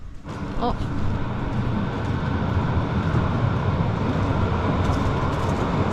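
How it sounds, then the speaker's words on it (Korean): A tram rumbles past along a street in Germany, a steady low rolling noise that fills the whole stretch, with faint background clatter. "어제 운행을 시작했던 트램이 싹 지나가네요"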